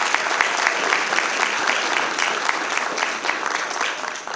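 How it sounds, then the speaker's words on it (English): Loud, sustained applause from an audience at a Richland School District Two Board of Trustees meeting: dense, steady clapping that fills the room for several seconds without a break. "Let's give them both a huge round of applause."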